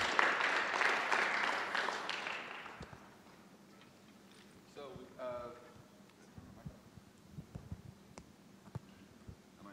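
An audience at a Linux and open-source conference session applauds, the clapping loud for about three seconds then fading into scattered claps and murmurs, with someone talking afterward.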